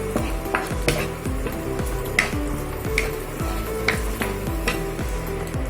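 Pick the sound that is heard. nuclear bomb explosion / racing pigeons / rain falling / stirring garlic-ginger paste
stirring garlic-ginger paste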